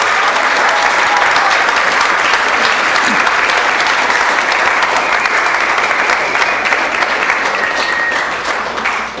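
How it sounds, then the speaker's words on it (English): Audience at a city council meeting breaks into sustained loud applause, dense clapping continuing throughout and only easing at the very end. "So let's give them a huge round of applause for getting that done."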